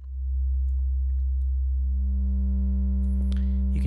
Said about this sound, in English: let's say that I was to use a sine wave.